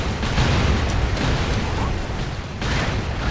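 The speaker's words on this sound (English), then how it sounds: "Okay, too many explosions going on now." Rapid explosions and bursts in the Expendabros video game, a dense continuous barrage of booms and pops filling the whole stretch at loud, steady intensity.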